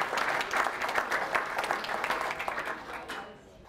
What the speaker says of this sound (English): let's give a warm round of applause to Meryl, who did a great job this morning.